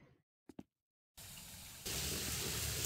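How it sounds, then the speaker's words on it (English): A shower running in the video game My Summer Car, starting abruptly after a couple of soft clicks and near silence, then a steady hiss of spraying water that grows louder partway through. "I'm going to grab a quick shower"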